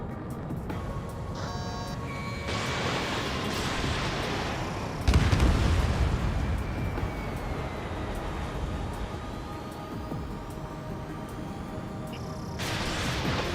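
Missiles striking targets in the jet combat video game Ace Combat 7: a steady engine drone with a sharp, booming explosion burst midway and fainter rumbling blasts and crackles around it, no speech.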